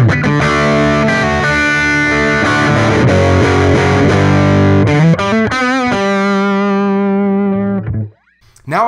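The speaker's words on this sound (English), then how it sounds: "a crunchy tone on the Orange Crush 12. I've got the volume about 5, the overdrive around 4, and the gain around 8." Crunchy overdriven electric guitar on a bridge pickup through an Orange Crush 12 amp, loud chords and riffs ringing for about eight seconds before cutting off abruptly near the end.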